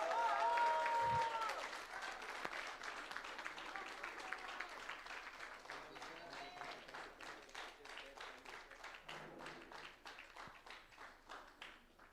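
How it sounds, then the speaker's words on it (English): Audience at a business chapter event in Bangalore applauds steadily, a dense even clapping that fades slowly over twelve seconds, with a brief voice near the start. "Once again, a huge round of applause."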